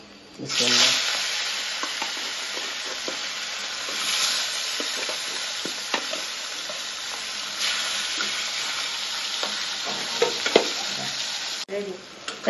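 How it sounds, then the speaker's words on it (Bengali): Spice paste of ginger, garlic and cumin sizzles and is stirred in a pan for a rohu fish curry, with a steady close hiss and scattered scraping clicks from the spoon throughout. "এই যে আমার পেস্টটা সুন্দর করে ভাজা ভাজা হয়ে গেছে।"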